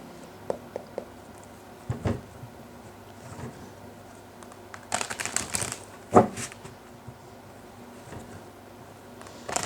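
Tarot cards are shuffled close by in a quiet room, heard as scattered crisp riffles and papery rustles, with a denser cluster midway and otherwise soft, brief flicks.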